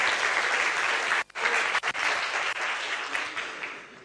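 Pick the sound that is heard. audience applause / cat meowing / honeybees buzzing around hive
audience applause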